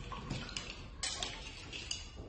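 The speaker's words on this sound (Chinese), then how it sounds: "然后是香醋， 再次跟它搅拌均匀" A spoon stirs a sauce with black vinegar in a bowl for sweet and sour cherry radish, giving soft scattered clinks and scrapes against the dish at low level.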